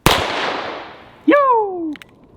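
.22 LR CCI Stinger round fired at a bowling ball: one sharp, loud crack that rings away, then a second impact a moment later with a falling, whistling ricochet-like whine that fades.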